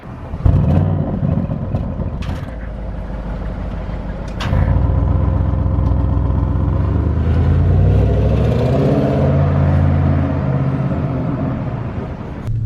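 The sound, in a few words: Audi RS7 car driving off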